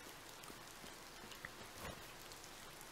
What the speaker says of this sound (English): Was that rain I hear?